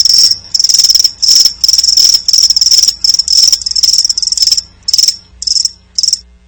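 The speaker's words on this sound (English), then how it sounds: "That's right, crickets." Loud, close cricket chirping in regular pulsing bursts, growing shorter and more spaced toward the end, with no other sounds.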